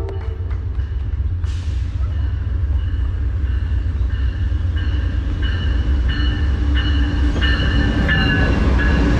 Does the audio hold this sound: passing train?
yes